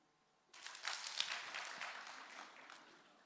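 A conference audience at an opening ceremony rehearses a single clap, a burst of many hands together that starts sharply and fades over about three seconds in a large room.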